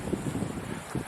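Wind gusting across an open golf course, a brief steady rumble of buffeting against the microphone with no voices.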